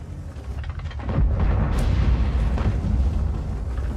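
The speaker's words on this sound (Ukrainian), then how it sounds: "По звуку гармати зрозумів" A deep, loud boom of a tank cannon firing in World of Tanks, from a Pz.Kpfw. VII, rolls out and rumbles on, a sustained low roar with no voices.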